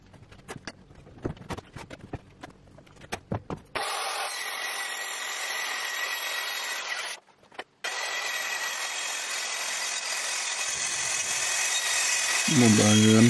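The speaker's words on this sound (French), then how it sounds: "C'est simplement une scie circulaire avec une" Circular saw fitted with a metal-cutting blade grooving material, a loud steady high whine running after some sharp clicks and knocks, briefly cutting out before resuming and rising toward the end.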